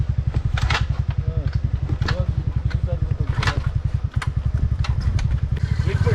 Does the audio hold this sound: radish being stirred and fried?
no